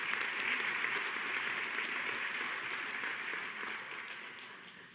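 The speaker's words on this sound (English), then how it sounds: "let's give them a round of applause as well" A gathering honouring a Pennsylvania Teacher of the Year breaks into soft, distant applause, a steady patter of many hands that gradually tapers off.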